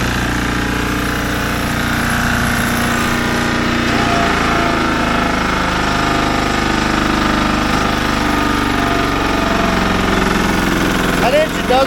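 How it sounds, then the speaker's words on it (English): The small engine on a homemade log splitter runs loud and steady, with its pitch sagging as it bogs down under load, a continuous close rumble throughout. "That engine does bog down."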